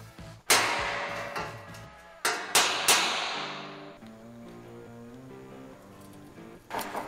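A few sharp metallic hammer strikes ring out, two or three in quick succession, each decaying into a fading metallic ring, with music playing underneath, as a crease is hammer-formed into sheet metal on a 1960 Cadillac trunk drop-down.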